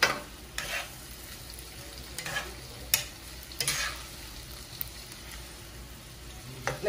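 Shrimp and seasoning fry together in a pot for Jamaican-style seasoned rice, giving a steady close sizzle broken by several sharp clinks and scrapes of stirring.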